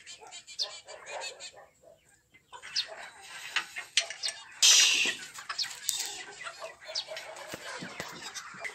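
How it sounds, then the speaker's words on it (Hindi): Desi hens being fed in a village yard, with a burst of wings flapping and scattered clucks and rustling around the feed, mixed with nearby activity and a person talking. "तो ये मुर्गियां अभी बिल्कुल तैयार हैं, बीच में एक दो अंडे भी तीन चार दे रही हैं"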